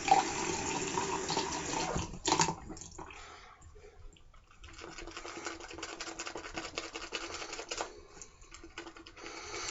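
Water runs from a tap in a sink while a shaving brush is being restored, a faint, steady rush that briefly cuts out and then resumes.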